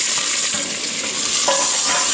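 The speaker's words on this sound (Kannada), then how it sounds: "ಅದನ್ನು ಚೆನ್ನಾಗಿ ಫ್ರೈ ಮಾಡ್ಕೊಳ್ಳುವ." Onion and tomato fry in a pan with curry leaves, a steady close-up sizzle holding level throughout, with no talk and faint stirring clicks.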